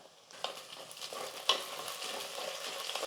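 Curry leaves hit hot oil with onions in a clay pot for a village chicken curry. Sharp crackling bursts rise from a quiet start, then settle into a close, continuous sizzle.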